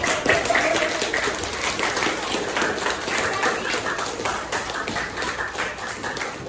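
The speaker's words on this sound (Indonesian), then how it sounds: "Tepuk tangan." A biology class of students claps together in a classroom, a dense, continuous patter of many hands at close range that holds steady throughout.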